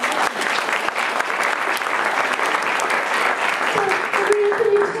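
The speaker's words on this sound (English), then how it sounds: "Can you give her a round of applause" A seated audience at a talk gives steady, dense applause that continues at full strength throughout, with a voice rising briefly near the end.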